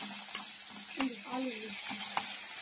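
Asafoetida dropped into hot oil for tempering, giving a steady close sizzle with a few light clinks of a spoon stirring the pan.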